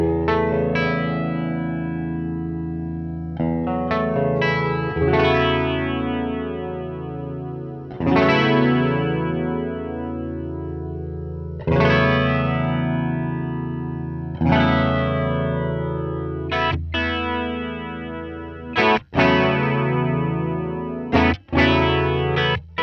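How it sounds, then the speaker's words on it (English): Electric guitar chords run through a flanger pedal with the depth cranked fully up, giving a sweeping, doubled, chorus-like shimmer with some distortion. Sustained strums ring out one after another for over twenty seconds, loud and close, with no talking. "You can kind of hear it sounding more like it's doubling the guitar when it's cranked all the way up"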